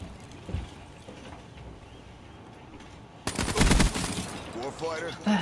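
Automatic gunfire in a Call of Duty Black Ops 3 free-for-all match: after quieter game sounds, a loud, rapid burst of shots breaks out partway through and continues with dense, rattling repetition, with a voice heard at the end.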